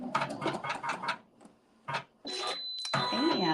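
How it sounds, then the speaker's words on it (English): An embroidery machine stitches out a basting stitch, giving quick bursts of rapid mechanical needle chatter broken by short pauses, with a steady whine and a final louder run. "sew this step out because it's going to sew the basting stitch up here"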